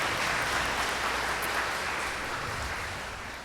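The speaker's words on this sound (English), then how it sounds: "so let's give her a round of applause." Audience at a university president's awards ceremony giving a round of applause, a steady wash of many hands clapping that holds evenly and then slowly fades toward the end.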